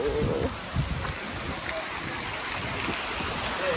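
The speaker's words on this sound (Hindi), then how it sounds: "देखे माशाल्लाह कितनी तेज बारिश है" Heavy rain hisses steadily and densely, a constant loud wash of falling water with no pauses.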